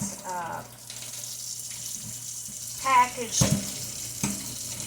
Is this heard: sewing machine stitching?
no